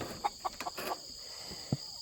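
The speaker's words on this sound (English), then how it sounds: "we got a bunch of birds all on top" Chickens perched together at night give a few short, scattered clucks, quiet and fairly close against a low background hum.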